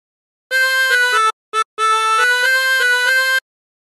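Battle Hymn of the Republic played on a 16-hole tremolo harmonica, a bright wavering reed melody of sustained notes with a couple of short breaks, loud and alone.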